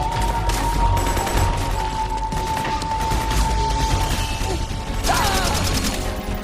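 Sustained suppressing gunfire in the Metal Gear Solid 4 video game, dense rapid automatic bursts rattling continuously with mechanical clatter, loud and close, a brief sweeping whine near the end and no talk.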